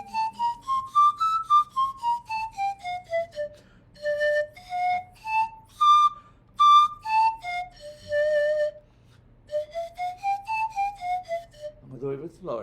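A pan flute plays a solo melody close up, with breathy, whistle-like tones in rising and falling phrases broken by short pauses.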